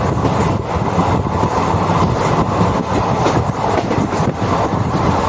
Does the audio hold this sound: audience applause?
no